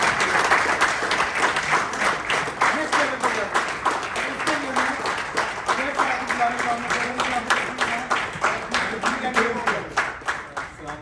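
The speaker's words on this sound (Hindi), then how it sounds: "आप बहुत जोर की तालियां बजनी चाहिए" Audience at a cricket captains' annual general meeting applauding loudly, a sustained run of fast, rhythmic clapping from many hands, with voices talking and calling out over it throughout.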